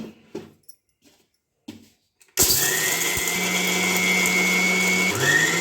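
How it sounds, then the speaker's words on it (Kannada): After a few quiet clicks, a kitchen mixer grinder starts abruptly and runs loudly with a steady high whine and rattle while grinding dry coconut and roasted gram into fine powder, no talking. "ಇದೆಲ್ಲ ಮಿಕ್ಸಿ ಮಾಡ್ಕೋಬೇಕು"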